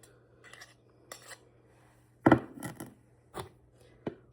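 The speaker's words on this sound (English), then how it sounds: "I hate scraping the bottom because I get it all over my hands." A spoon scraping the bottom of a bowl of puppy chow, with sparse scrapes and knocks, a sharper cluster in the middle, against a quiet background.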